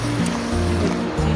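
Water of a flowing lake at a state park rushes steadily and loudly nearby, a dense continuous wash with a low rumble underneath.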